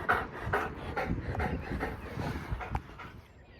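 A greyhound pants in quick, rhythmic breaths close by on a quiet morning walk, steady bursts of breathing with a faint whimpery edge throughout.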